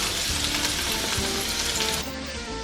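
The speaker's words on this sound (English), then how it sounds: "we're going to put the onion into oil that's been warmed up" Onion sizzling and frying in warmed oil rendered from lamb trimmings, a steady close hiss with light stirring throughout, no talk.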